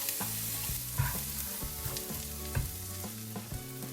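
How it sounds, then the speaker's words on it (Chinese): Minced garlic sizzles and crackles in leftover egg-frying oil in a wok, with steady hiss and a few sharp spatula scrapes against the pan, close and continuous, no talk. "锅中这是刚刚煎鸡蛋剩下的油，咱们将切好的蒜末倒入，"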